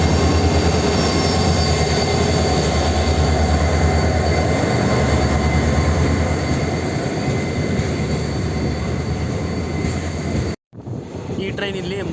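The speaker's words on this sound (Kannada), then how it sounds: "ಬಾಗಲಕೋಟ್ ಮೈಸೂರು ಬಸವ ಎಕ್ಸ್ಪ್ರೆಸ್ ಬಸವನ ಬಾಗೇವಾಡಿಯ ಪ್ಲಾಟ್ಫಾರ್ಮ್ 2ಕ್ಕೆ ಬರ್ತಿದೆ." The Bagalkot–Mysuru Basava Express, train 17308 led by a WDP4 diesel locomotive, rolls into platform 2 at Basavana Bagewadi with loud continuous wheel rumble and squealing rail noise that suddenly cuts out near the end.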